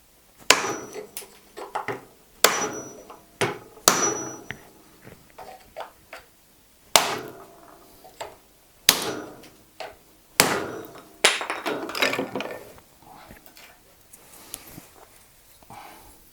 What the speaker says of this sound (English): I'm going to give this a good whack